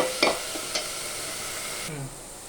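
Onions frying in a pan as a spoon stirs them, a couple of sharp scrapes early over a soft steady sizzle, close and fairly quiet, no voices.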